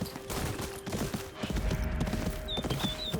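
Horse hooves clip-clopping in the video game Ghost of Yotei, a steady run of hoofbeats over a busy in-game soundscape with faint whistling tones near the end.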